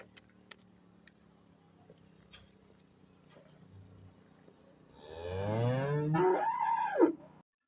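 At a livestock market in Xaçmaz, Azerbaijan: quiet background with small knocks, then a single long, loud cow moo rising and swelling near the end before cutting off.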